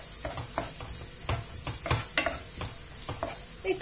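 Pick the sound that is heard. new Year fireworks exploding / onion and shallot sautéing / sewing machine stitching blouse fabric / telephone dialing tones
onion and shallot sautéing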